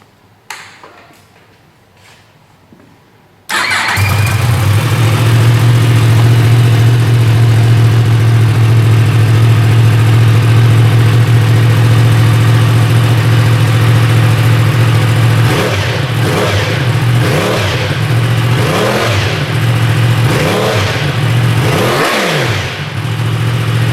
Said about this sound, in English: let you hear the difference between the stock canister and the MGP slip-on